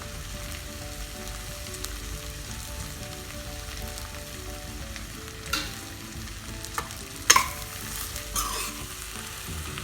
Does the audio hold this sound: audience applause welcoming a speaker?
no